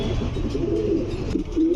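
An old-breed pigeon with a brown neck and pearl eyes, at a pigeon sale, gives a few soft low coos over a dull background hum, close and fairly quiet.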